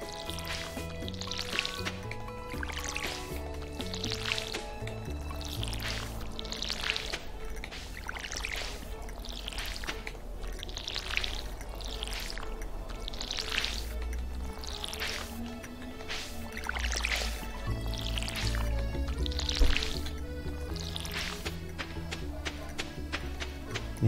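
Watering crops in Stardew Valley: repeated soft splashing and dripping game sounds in a steady rhythm over continuous background game music, moderately loud and close.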